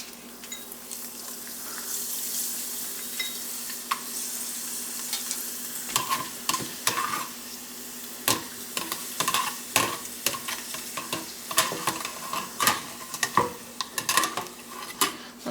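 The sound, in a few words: papadam frying in hot oil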